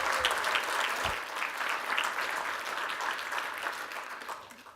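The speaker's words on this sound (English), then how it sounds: "Big round of applause for everyone coming." Audience applause rolls through a large room in a dense, sustained wave of many hands clapping, loud at first and gradually thinning out.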